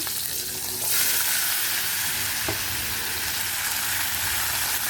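Potato and onion fry with black cumin and green chilli, a loud close sizzle that swells after the first second and keeps going steadily, with a brief utensil knock midway and no talking.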